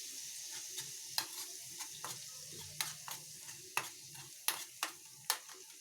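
Crushed garlic paste frying in hot oil with mustard seed tempering for a bitter gourd pickle, a soft steady sizzle broken by repeated sharp spoon scrapes and taps against the pan, close and faint with no talk.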